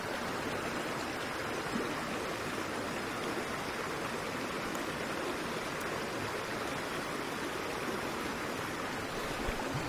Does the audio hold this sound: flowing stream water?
yes